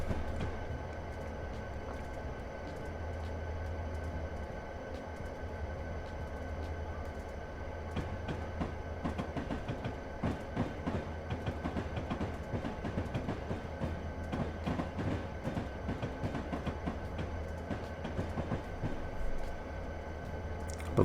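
An SD40-2 diesel locomotive rolling along track on Soldier Summit in Train Simulator 2020, with a steady low engine rumble and rhythmic clickety-clack of wheels growing busier midway, continuous and moderately loud without talk.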